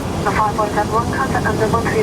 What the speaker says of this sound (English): This plane is now landing itself.